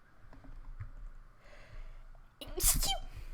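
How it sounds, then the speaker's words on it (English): In Zoo Tycoon 2, after a quiet stretch with faint clicks and a brief breath, a single sharp, loud sneeze bursts out near the end. "Oh, I'm gonna sneeze any second now."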